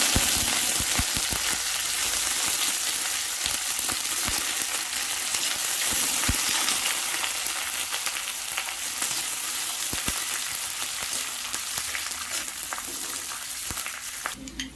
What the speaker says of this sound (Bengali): পেঁয়াজগুলো হালকা করে ভেজে নেওয়ার পরেই